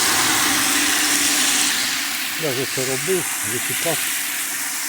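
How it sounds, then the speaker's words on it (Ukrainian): Steady broadband hiss of a water pump filling a bucket, loud and continuous through the clip, with someone speaking over it in the second half. "Зараз ми подивимося, за скільки набігає вода у відро."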